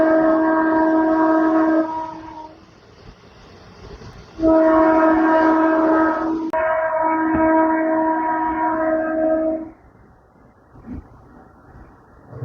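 A MEMU local train running from Bhimavaram to Machilipatnam sounds a long, loud horn in several sustained blasts with short gaps, over steady rolling rail noise, close and with no voices.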